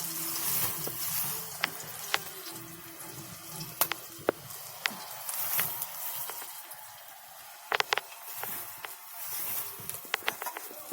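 Green chilies sizzle faintly in a pan under a steady hiss, with scattered light clicks of a spoon stirring, soft and close with no talk.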